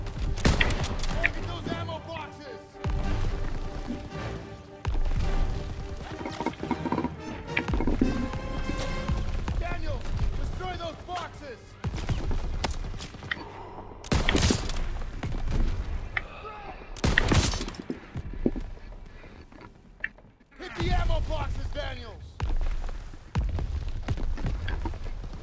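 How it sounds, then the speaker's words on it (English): Enemy gunfire in the WWII shooter Call of Duty: WWII, with bursts of shots, loud blasts and battlefield clatter coming in uneven waves, while voices shout over the fighting. "They're shooting at me"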